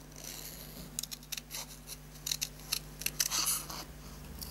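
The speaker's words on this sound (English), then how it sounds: "Go round and round with your scissors, fussy cutting." Scissors snip through paper close by in a quiet, irregular series of short crisp cuts, alone.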